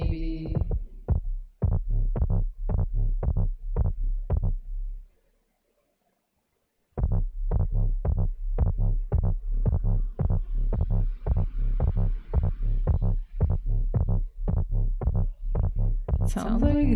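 Electronic kick drum from a Korg Volca with a boxy tone, a steady run of close, punchy thumps that stops for a couple of seconds and then resumes at the same pace, alone with no talking.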